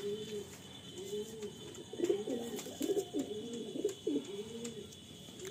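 Kalasabuj pigeons coo repeatedly in a loft in Garia, Kolkata, their rolling, throaty calls overlapping in a steady series over a low background hum.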